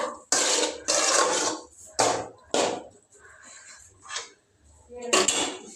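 A spoon scrapes and knocks in a pan while cauliflower fry is stirred with coriander powder, several sharp clattering strokes separated by short pauses, close and alone.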